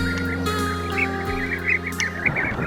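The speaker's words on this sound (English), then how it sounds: "These clay cliffs that we have here, absolutely teeming with bee eaters in the summer." Bee-eaters calling around summer clay cliffs, with short chirping notes repeated in loose, overlapping bursts over a steady background hum of the open site.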